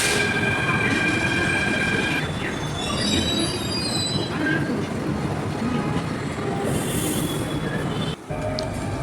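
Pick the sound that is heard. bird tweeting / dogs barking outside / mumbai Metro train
mumbai Metro train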